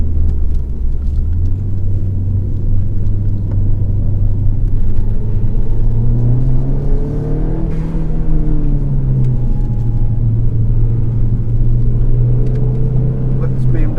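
Ford Fiesta ST running on a track as a Mitsubishi Evo rally car passes, with a loud, close engine rumble whose pitch rises and dips, and a voice speaking over it.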